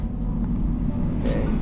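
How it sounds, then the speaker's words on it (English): A 2013 Smart Fortwo Pure small car under full-throttle acceleration, heard from inside as a low, steady engine drone with brief hissy bursts of road and wind noise. "I'll put her to the floor and see how the little smart car does"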